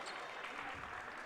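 A Farmingdale State women's basketball crowd in the Arc Arena claps and cheers in a brief, steady burst of applause with no clear voices on top.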